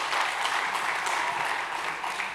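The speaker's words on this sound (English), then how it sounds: "Isn't that something we need to clap for?" Full, sustained applause from a lecture audience at the annual Thabo Makgoba Lecture, many people clapping together at steady strength from start to finish.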